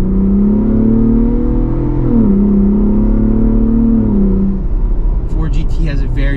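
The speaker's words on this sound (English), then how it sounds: "That EcoBoost sound is kind of growing on me." A Ford Bronco Raptor's turbocharged EcoBoost engine drones loud and close, its exhaust note holding steady then dipping and rising as revs shift, with a voice breaking in at the end.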